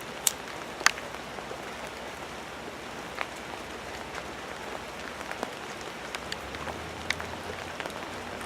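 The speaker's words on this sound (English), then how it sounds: "Oh, silly rain, getting in my pipe and pissing me off." Steady rain falling outdoors with scattered drops pattering and ticking on nearby surfaces, a continuous soft hiss with occasional sharper taps, no voices.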